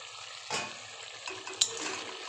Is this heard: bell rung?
no